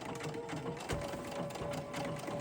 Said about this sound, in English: I'm going to put a regular stitch on that when I'm done, just to get it on that side.